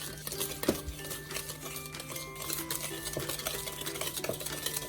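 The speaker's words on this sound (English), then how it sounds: "And you just want to whisk until incorporated." A whisk stirring creamed butter and sugar batter for banana bread in a bowl, a steady rhythmic scraping and light clinking against the bowl, close and moderately quiet.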